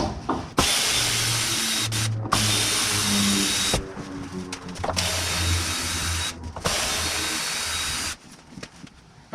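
A power drill backing screws out of wooden horse stall boards in a barn, with several whirring runs of a few seconds each separated by short pauses.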